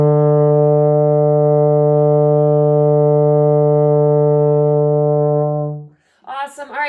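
A baritone or tuba holds a long, loud, steady low D for about six seconds before cutting off, after which a voice starts speaking.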